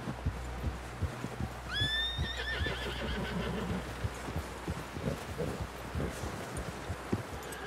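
A horse whinnies in Red Dead Redemption 2, a loud descending neigh rising out of a dusty outdoor scene, with soft hoof clops and shuffling around it and no talking.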